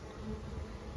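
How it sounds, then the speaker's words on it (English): Honeybees buzz in a steady, dense drone at an opened Langstroth hive during a spring inspection, a close, continuous hum with no voices. "this is all the bees that's left in the box"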